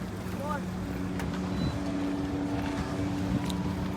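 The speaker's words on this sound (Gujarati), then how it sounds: "જો સામેથી જાય છે બોટ" A boat passes on the water with a low, steady engine drone under wind buffeting, with faint voices in the background.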